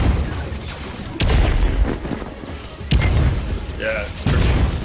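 Three heavy booming grenade explosions in the Guardians of Orion video game land a second or two apart, each a deep rumbling burst over steady game noise, with voices heard between them.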